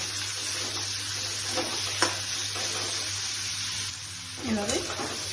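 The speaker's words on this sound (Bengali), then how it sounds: "ফ্রাই করে নিচ্ছি এইভাবে। একসাথে ফ্রাই করে নিলাম।" Chicken pieces frying in a pan for a Bengali chola dal curry with chicken and prawns, a steady close sizzle with occasional stirring scrapes.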